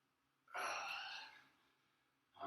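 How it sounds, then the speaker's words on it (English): A man's heavy breathing while doing knee stability exercises: one loud, sharp breath lasting about a second that fades into quieter huffing, then a second hard breath starting at the very end. Nobody speaks. "if you can hear me breathing"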